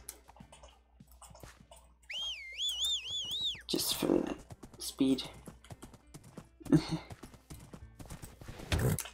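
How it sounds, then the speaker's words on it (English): A summoned horse in Minecraft's Wynncraft server arrives with a wavering whistle, followed by clip-clopping hooves and a neigh, under a player's talk and keyboard clicks. "I'll just resummon my horse here."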